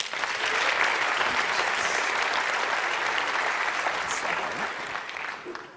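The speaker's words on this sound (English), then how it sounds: "Another round of applause for all 4 Ingenuity Award winners" Steady, full applause from a large audience at a university innovation awards ceremony, dense clapping held for several seconds before easing slightly at the end.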